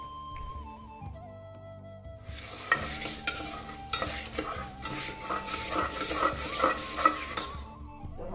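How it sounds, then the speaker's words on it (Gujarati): Popcorn is prepared in a pan, starting quietly with faint tones before a run of metal stirring scrapes and clinks over a soft sizzle, close and uneven in rhythm, with no speech. "ચા અને આ બાજુ પોપકોર્ન બનાવવાની તૈયારી કરી દીધી છે."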